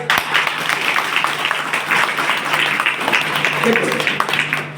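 Congregation applause during a Hindi church sermon on the prodigal son, a steady, moderately loud clapping from many hands with some murmuring voices mixed in beneath.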